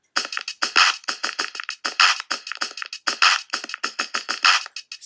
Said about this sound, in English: In the first pattern we got the basic drum kit of the beat.